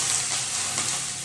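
Broccoli fries in hot oil, giving a steady, close sizzle with a soft crackle that holds evenly through the short stretch.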